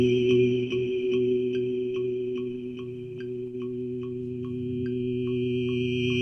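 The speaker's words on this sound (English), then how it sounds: "We've got an analog lab sound open that sounds like this." Analog Lab synthesizer patch holds a steady, droning chord pad while a bright plucked tone repeats at an even pace on top, close and clean, with no voices.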